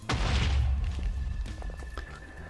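Explosion in Minecraft with the Carpenter's Blocks mod, set off near an obsidian-textured block: a single loud, booming blast that hits hard at once, then a rumbling decay with scattered debris crackle over the next two seconds.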